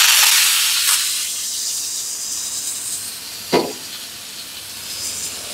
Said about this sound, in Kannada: ಹಂಚ್ ಕಾದಿದೆ, ಎಣ್ಣೆ ಹಾಕೋತಾ ಇರೋದೆ, ಫಿಶ್ ರೋಸ್ಟ್ ಮಾಡ್ತಾ ಇರೋದೆ.